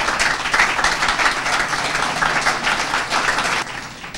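Audience applause at a live event, a loud, dense crowd clapping continuously and close, dropping off slightly just before the end.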